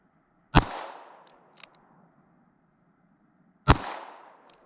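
Two sharp, loud gunshots about three seconds apart, fired outdoors from roughly five feet at the blade of an ODENWOLF W1 knife, each crack followed by a short decaying ring and a faint metallic ping.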